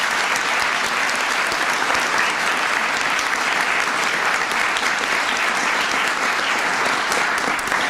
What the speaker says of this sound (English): Give Harry a big round of applause